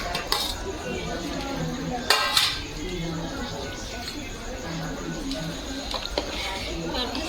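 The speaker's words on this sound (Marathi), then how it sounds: "भात आता ह्या रस्स्याच्या पातेल्यामध्येच टाकून घ्यायचा आणि मिक्स करून घ्यायचा आहे" Rice being mixed into a pot of village-chicken curry with a metal spoon: continuous scraping and clattering against the pot, with louder clanks now and then, under steady background noise and nearby voices.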